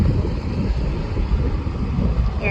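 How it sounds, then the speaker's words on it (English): Strong wind roars steadily beside a rising dam reservoir outdoors, a dense continuous rush of air, probably through trees, with broadband buffeting on the microphone throughout. "it's really windy today"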